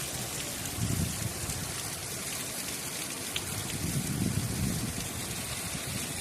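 Heavy rain pours down steadily in a windy, rural outdoor setting, a dense continuous hiss with slight swells in loudness, no voices present.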